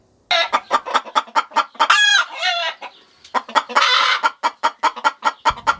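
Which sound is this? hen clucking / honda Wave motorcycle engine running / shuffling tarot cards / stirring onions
hen clucking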